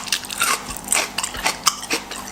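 Several crisp, wet crunching bites into sweet pickled rhubarb, close up, with chewing between the bites and no talking.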